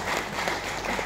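Audience applause at a business seminar gathering, a brief, dense burst of steady clapping from a crowd filling the whole moment.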